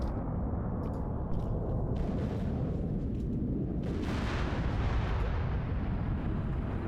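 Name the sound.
bombing explosions in a video game (Arma airfield assault)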